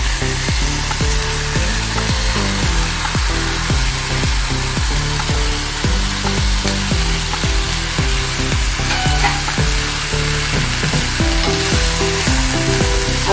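Steady loud sizzling of ivy gourd frying in a pan, with repeated scraping strokes of a spatula stirring through it.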